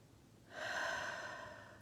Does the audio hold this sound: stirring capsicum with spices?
no